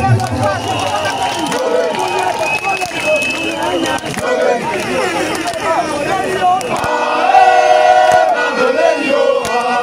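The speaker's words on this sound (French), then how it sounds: "Je veux beaucoup de bruit pour Makori." Crowd at a political rally in Marcory, Abidjan, making a loud, sustained roar of cheers and shouts that swells toward the end, with an amplified voice over it.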